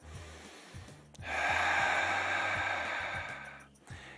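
Deep breathing during a qigong exercise: one long, loud exhale rushes out near the microphone for about two and a half seconds, framed by quieter breaths and a soft low rhythmic background.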